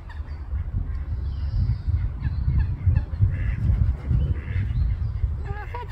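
Outdoors, a bird gives a few short honking calls, goose- or duck-like, over a loud rumbling background of wind or handling noise.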